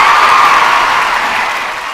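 A crowd applauding at a Tamil event, a dense wash of clapping with some cheering that stays steady and loud for a couple of seconds before easing slightly.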